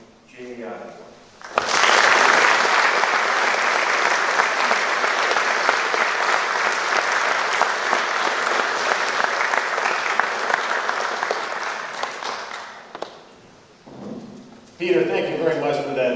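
Audience applause welcoming a speaker at a presentation at Avon Old Farms, a loud, sustained burst of clapping that runs steadily for about eleven seconds before fading, with brief talk at the start and again at the end.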